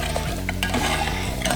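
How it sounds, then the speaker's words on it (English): Sweet and sour sauce thickened with cornstarch slurry, stirred in a pan over heat: busy scraping and clinking of a utensil against the pan over a low steady hum and light bubbling, no voices. "we need to stir it to thicken it"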